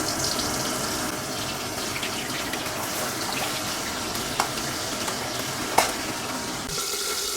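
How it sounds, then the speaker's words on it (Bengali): Pomfret fish frying in mustard oil, a loud continuous crackling sizzle with a couple of sharp spatters and clicks standing out. "মাছগুলো এবারে আমাকে একে একে ভেজে নিতে হবে। মাছগুলো আমি একে একে ভেজে নিচ্ছি।"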